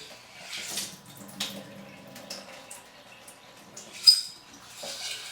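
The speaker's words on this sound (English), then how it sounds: "I'm just going to give the seeds a quick rinse to clean them off." Sprouting seeds get a quick rinse with tap water in a jar. Soft splashing and trickling is heard close by, with faint drips and one sharper slosh partway through.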